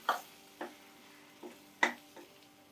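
Rice being stirred into egg in a pan for quick egg rice, giving a few soft, separate scraping and stirring strokes with a light sizzle, close and fairly quiet, no talk.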